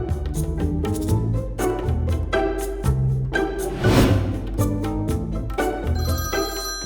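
A mobile phone plays a loud, melodic ringtone that runs continuously without pause, with a musical, tuneful pattern and no voices over it.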